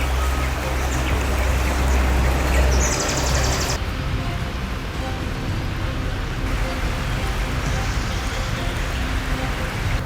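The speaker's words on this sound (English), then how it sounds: "A beautiful river here." River water flows in a steady, loud broadband rush beside a riverbank in Karen, Nairobi, continuous throughout with no voices.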